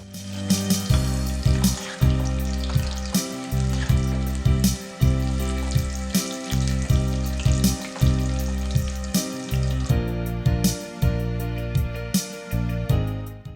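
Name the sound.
fried chicken pieces frying again in hot oil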